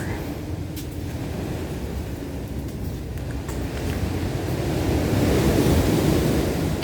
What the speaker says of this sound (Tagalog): mas lalong rinig namin ang hampas ng mga alon.